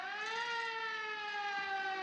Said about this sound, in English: It's the police sirens.